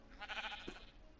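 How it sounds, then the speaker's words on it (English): A sheep bleats in a Minecraft video game, a single short, quiet bleat over a low steady background hum, with no talking. "Just a sheep, ninja."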